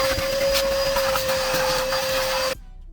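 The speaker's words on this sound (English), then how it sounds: "First thing I'm gonna do is vacuum." Vacuum cleaner working over car seats during interior detailing after a spill, a steady loud whine with a fixed high tone and broadband hiss running for about two and a half seconds before cutting off abruptly.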